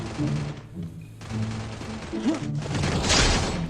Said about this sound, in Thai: ยิงเลยหัวแตก